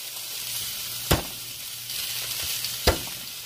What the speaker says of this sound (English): serrano pepper are starting to roast really beautifully